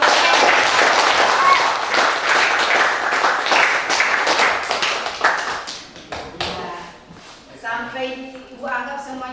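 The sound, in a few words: audience applause in a classroom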